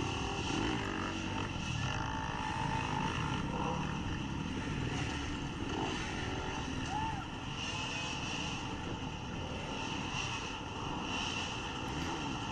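Dirt bikes in a Kilburn Woods hare scramble approach through the woods, a faint, steady engine drone rising in the background beneath a broad outdoor wash of noise, with no clear passes standing out.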